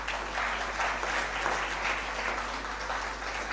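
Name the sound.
audience applause for research scholars and mentors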